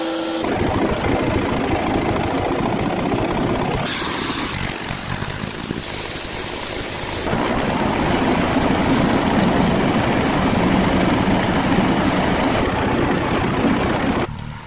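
An extremely tuned tractor, billed as the fastest in the world, roars continuously at high power, loud and close, with small shifts in tone as it runs.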